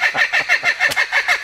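A bird gives a loud, close laughing call, a quick steady series of about seven cackling pulses heard on its own.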